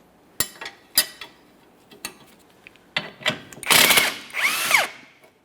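A power tool loosens the 14mm mounting hardware on a rear sway bar link of a 2015-2019 Subaru Outback: short whirring bursts and clicks, then longer loud buzzing runs of the impact tool, close and sharp.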